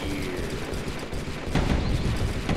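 In the video game Deer Simulator, a deer fires Desert Eagle pistols mounted as horns, producing a few quiet, rough, crackling gunshot bursts that cluster near the end of a noisy game soundscape.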